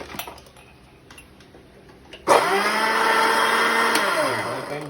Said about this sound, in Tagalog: Tapos i-blender na natin to mga tropa.